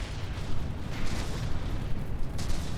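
A barrage of missiles strikes battleships in the naval combat game From the Depths, a dense stream of overlapping booms and rumbling blasts with a few sharper bursts, continuous and fairly loud, with no speech.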